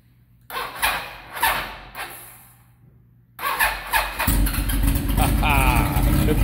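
A big-bore 1327cc Kawasaki KZ1000 motorcycle engine cranks and catches, a few rough bursts, a pause, then settles into a loud, throbbing idle close by, with voices talking over it.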